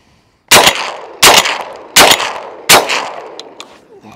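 A Remington Versa Max shotgun fires four loud, sharp shots, evenly spaced less than a second apart, each with a short echoing tail.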